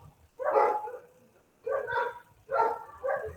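Several dogs bark in short bursts, three to four loud barks spaced about a second apart, with no other sound between them.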